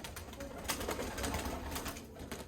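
Pigeons kept on a rooftop loft for kabootarbazi, with steady busy cooing and fluttering wing noise close by throughout, dense and continuous with no talk over it.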